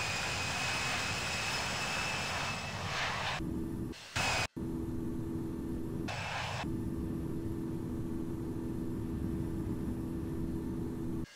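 Steady roar of a CRJ-700 jet taking off in the flight simulator game Infinite Flight, a loud continuous engine rumble and whine with a couple of brief dropouts.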